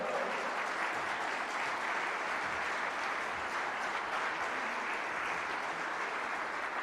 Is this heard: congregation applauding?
yes